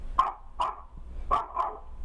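Dog barking down a phone line into a call-in show, four sharp barks in two pairs with short gaps between them, slightly thin and compressed, with no talking.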